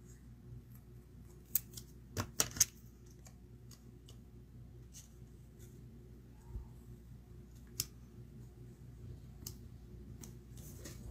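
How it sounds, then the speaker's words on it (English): A few crisp snips of scissors trimming card pieces for handmade cardmaking, quiet and close, a quick cluster of cuts followed by sparse clicks in an otherwise still room. "So some of the pieces are going to get trimmed off."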